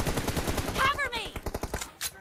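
Rapid automatic gunfire from a mobile shooter team deathmatch, a quick train of sharp shots mixed with game effects and a voice talking over the action.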